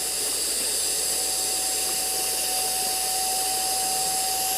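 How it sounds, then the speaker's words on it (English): A Flextail Max Pump 3 sucks the air out of a vacuum storage bag, a steady, loud motor whir with a constant high tone and hiss that holds unbroken throughout. "it is vacuuming down very nicely"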